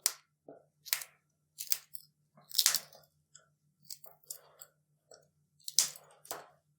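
Five green chillies are snapped apart by hand, a series of short, crisp cracks and crunchy breaks in irregular rhythm, close and clean against near silence.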